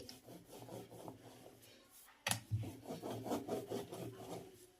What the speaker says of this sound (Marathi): अशीच आपल्याला पातळ अशी पोळी लाटून घ्यायची आहे